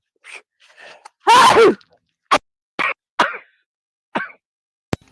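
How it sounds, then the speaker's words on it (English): A single loud, explosive sneeze bursts out after a few soft breaths, followed by several short sharp sounds and small vocal noises. "Oops, gotta sneeze."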